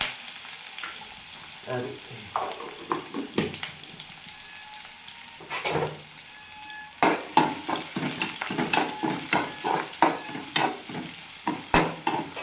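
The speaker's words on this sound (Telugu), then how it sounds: "ఆవాలు వేసాను, కరివేపాకు వేస్తాను, ఎర్రగడ్డలు వేసేసాను." Mustard seeds, curry leaves and onions fry in a pan for a pumpkin sambar, with crackling sizzle and repeated scraping stirs of a spoon against the pan, close by, and a brief spoken word.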